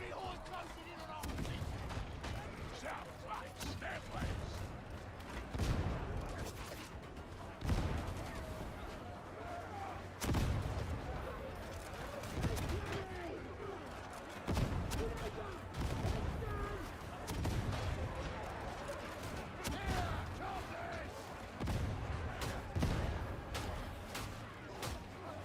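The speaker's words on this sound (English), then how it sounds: "our Rumbler's not gonna run out of ammo" A Rumbler gun firing in a video game, repeated bursts and heavy shots recurring over a long stretch amid dense in-game combat noise, with voices talking at times.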